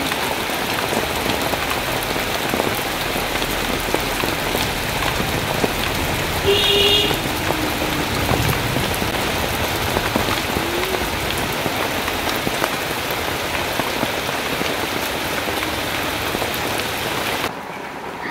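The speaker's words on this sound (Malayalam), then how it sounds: "മഴ ഉഷാറായിട്ട് പെയ്തുകൊണ്ടിരിക്കുന്നതാണ്." Heavy rain pours down in a dense, continuous hiss of drops hitting surfaces, loud and unbroken for about seventeen seconds before it drops off at the very end.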